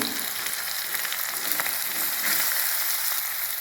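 Onion hits a hot pan with garlic and chili paste for a fenugreek vegetable dish, raising a loud, steady, close sizzle with a broad hiss that holds evenly throughout.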